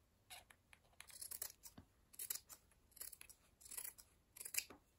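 Small scissors snip through embroidered fabric in a quiet, close run of crisp cuts, arriving in short bursts of about five clusters with brief pauses between them and no talk.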